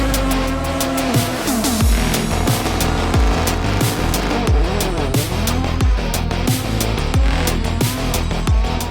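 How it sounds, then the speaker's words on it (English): A Volkswagen hillclimb race car launches at the Simola Hillclimb, its engine screaming loud and close through rapid repeated pitch drops of fast gear changes, with tire squeal and no talking. "I must have heard this car launch"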